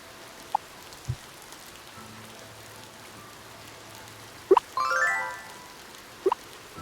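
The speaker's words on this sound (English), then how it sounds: "It's raining, so the crops won't have to be watered." Rainfall in the Ova Magica farming game comes as a faint, soft patter under a quiet background, broken by a few isolated plops and a short chiming jingle.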